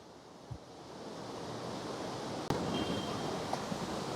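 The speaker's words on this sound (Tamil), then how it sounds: "தண்ணி சத்தம் தான் வந்து அதிகமாக வந்து கேட்குது" Rushing water at a hillside forest site roars as a steady broadband wash, moderately loud and continuous, with a couple of brief knocks and a louder surge partway through.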